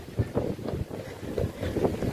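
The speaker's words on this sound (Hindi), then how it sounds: "बहुत तेज हवा चल रही है।" Strong wind gusts through an outdoor storm, a rough, buffeting roar that swells and dips constantly and batters the microphone close up.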